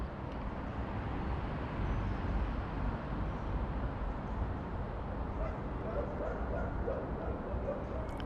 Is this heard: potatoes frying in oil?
no